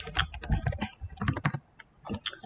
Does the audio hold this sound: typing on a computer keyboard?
yes